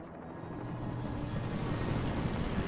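A helicopter in the video game Alan Wake Remastered gets louder and closer, its rotor and engine roar building into a steady, dense wash of noise.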